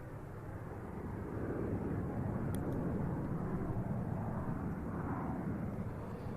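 A Harrier jet flying a display at an airshow makes a broad, steady roar that holds at an even, fairly distant level throughout, with no voices.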